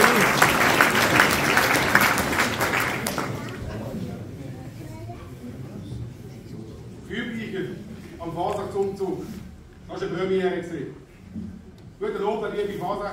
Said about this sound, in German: Begrüßen Sie mit einem warmen Applaus den Alex Brandt.